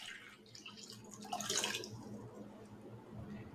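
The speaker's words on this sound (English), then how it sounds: "The first step in our experiment is to take some cold water and fill up our bowl." Cold water runs from a tap into a bowl with a soft, rushing splash that swells briefly midway and then settles into a quieter, steady trickle.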